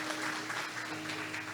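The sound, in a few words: church congregation applauding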